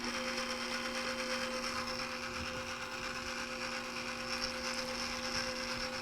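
A stand mixer kneads brioche yeast dough at a higher speed, giving a steady, moderately quiet mechanical whir with a constant motor hum and faint rattling throughout.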